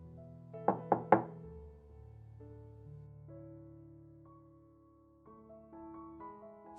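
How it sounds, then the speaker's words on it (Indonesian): Three quick knocks rap on an apartment door, close and distinct, followed by soft sustained background music tones. "mengetuk pintu apartemen"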